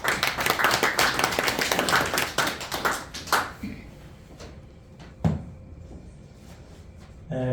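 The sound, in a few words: audience clapping to welcome speaker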